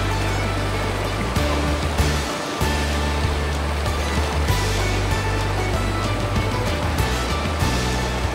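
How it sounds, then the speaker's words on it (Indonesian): A strong river current rushes past at a riverside camping spot, a loud, steady broadband roar of flowing water with low rumble underneath, close and continuous throughout without any voices. "arusnya kenceng banget guys"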